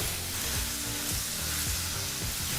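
Paneer masala ingredients fry and get stirred nonstop in a kadai over a medium flame, giving a steady dense sizzle with repeated scraping strokes throughout.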